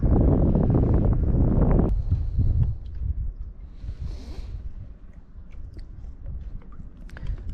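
Strong gusts of wind buffet the microphone during fly fishing for trout, loud rumbling bursts at first that ease into lighter, intermittent gusting with small knocks and rustles.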